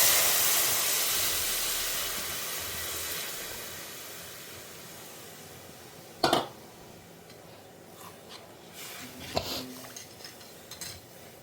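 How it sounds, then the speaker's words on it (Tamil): Tamarind water poured into a hot pan gives a steady hiss and sizzle that slowly fades, with a few clinks of a utensil against the pan later on. "இப்போ புளி ஜலத்தை ஆட் பண்ணிடலாம்"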